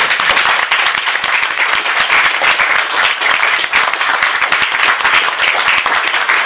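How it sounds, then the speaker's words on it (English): Dense, steady audience applause fills a conference hall at a private property roundtable, loud and close, with many hands clapping continuously throughout and no talk over it. "I propose we applaud these people"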